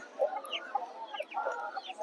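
A rooster for sale at a weekly village livestock market clucks in a quick, uneven series of short calls, close and fairly soft, with no background noise.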